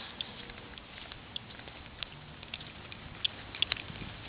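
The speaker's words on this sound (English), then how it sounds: "It's raining." Light rain patters softly and steadily, with scattered small drips and taps standing out against a quiet background hiss.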